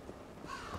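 Crows cawing in the game Vikings Wolves of Midgard, a couple of faint, short, hoarse calls in quick succession.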